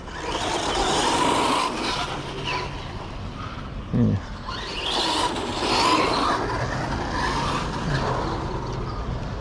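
An HSP 1/10 scale RC car buzzes and whines as it drives, surging and fading with speed, with a short thump of braking midway; people talk and exclaim excitedly over the motor noise throughout.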